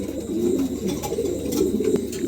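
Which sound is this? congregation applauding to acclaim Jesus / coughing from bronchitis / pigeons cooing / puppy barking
pigeons cooing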